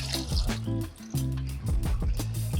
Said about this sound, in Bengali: জলটা ছাড়তে হবে,